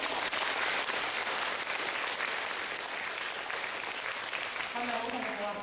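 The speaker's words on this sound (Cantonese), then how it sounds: "我哋係咪應該再俾多2次掌聲？" A studio audience keeps up dense, sustained applause, loud and continuous throughout, with a voice speaking faintly near the end.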